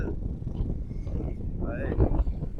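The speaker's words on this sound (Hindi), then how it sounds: "यह हवा भी बड़ी तेज" Strong wind buffets the microphone on a bridge in the Ghanche district of Gilgit-Baltistan near Skardu, a steady low roar under talking voices throughout.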